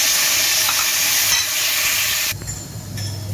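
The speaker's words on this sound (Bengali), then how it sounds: "কড়াইতে আমি তেল বসিয়ে দিয়েছি। এখন লং এলাচি দারুচিনি লবঙ্গ তেজপাতা সবই দিয়ে দেবো" Whole spices (cloves, cardamom, cinnamon, bay leaf, black pepper) sizzle in hot oil in a wok with a loud, steady frying hiss that drops to a softer crackle partway through. No one speaks.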